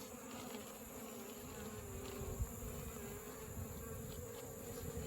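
Honey bees buzz steadily around their hives in a beekeeper's yard, a continuous low droning hum with no talk, holding a fairly even level throughout.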